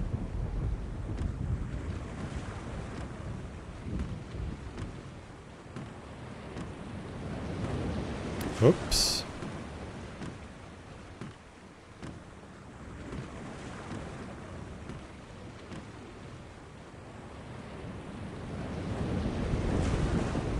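Stormy sea around a ship in The Longest Journey, a steady roar of wind and surging waves that swells and fades, with one sharp brief sound partway through and a single short spoken word.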